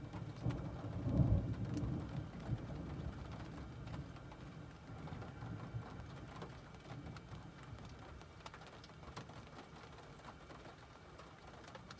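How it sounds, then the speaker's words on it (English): Thunder rumbles overhead during a storm sweeping across Minnesota and Wisconsin, with a deep, loud roll near the start that fades into a steady low grumble under continuous rain. "A little bit of thunder."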